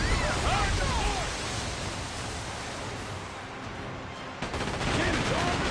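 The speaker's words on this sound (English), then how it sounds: "Cannons armed and ready. Blast them!" Ship cannons fire in a naval battle in Like a Dragon: Pirate Yakuza in Hawaii, a dense roar of booming shots and noisy blasts over constant rumble, with a brief lull before the barrage resumes loudly.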